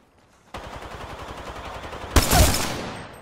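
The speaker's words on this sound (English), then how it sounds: "I got gunshots to the left, guys." Rapid automatic gunfire from the Apex Legends video game, a dense burst of repeated shots starting after a brief quiet and growing louder and harsher near the end, with no talk over it.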